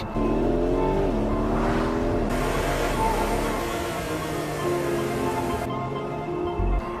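A Porsche 992.2 GTS drives along, its engine droning loud and close with rising and falling revs and gear changes, the tone shifting as it pulls away under steady road noise.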